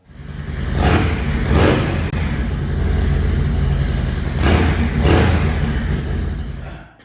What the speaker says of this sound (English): I've had this bike running for about 15 minutes now.